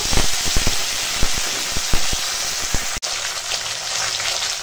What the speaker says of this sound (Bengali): পেঁয়াজটা এখন ভাজা হয়ে গেছে আর এখন দিয়ে দেব জিরে আর আদা রসুনের বাটা, আর তার সঙ্গে টমেটো